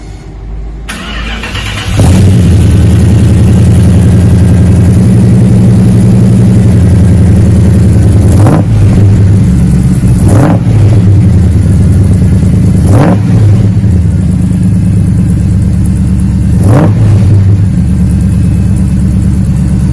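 A 1967 Dodge Charger V8 with a Magnaflow wide-open muffler cranks and catches, then settles into a deep, loud, lumpy idle close by. Several sharp throttle blips rise and fall over the rumble. No one speaks.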